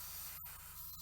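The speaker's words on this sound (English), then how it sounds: "Now, when I'm spraying this direction, I don't have to worry about masking because it's just going to spray out past the model." An airbrush sprays paint past a Feral Knight Inaana miniature in a steady, faint hiss with a brief break midway, no voices present.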